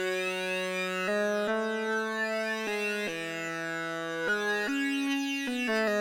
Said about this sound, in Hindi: इसके अलावा मैंने एक वॉक्स बॉक्स का लीड भी इस्तेमाल किया है जो कुछ इस तरीके का साउंड करता है